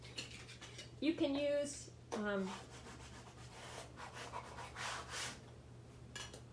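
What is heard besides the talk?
rubbing down sticky paper on a mini album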